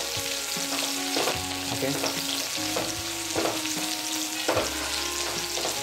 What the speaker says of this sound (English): Put the stove in low flame and try to mix it properly in the oil.